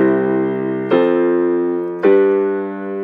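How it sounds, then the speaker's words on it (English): Three sustained chords in a I-IV-V progression are struck one after another, each ringing out and fading, a clean tonal progression with no talking. "so 1 to 4 to 5 sounds like this"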